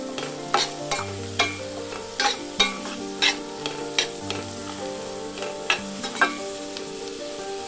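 Carrots and mixed vegetables frying in a pan, with a soft continuous sizzle broken by rhythmic scraping stirs roughly every half second, close and alone.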